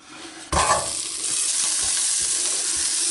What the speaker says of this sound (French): On va mettre l'oignon émincé.